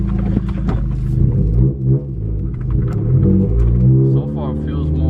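Steady engine rumble and road noise from inside a 10th gen Honda on its first drive with a new Hondata tune, someone talking over the low drone with a brief rise in revs.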